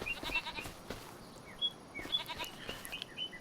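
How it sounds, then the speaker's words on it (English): Goats and sheep bleating in a Farming Simulator 25 farm pen, scattered short calls at moderate distance over quiet outdoor ambience, no talk. "Hello, goats. Sheep."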